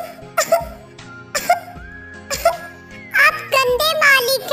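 A cartoon girl coughs hard in several loud bursts after drinking a chili-laced sherbet, then sputters and gasps into a shrill, tearful-sounding cry.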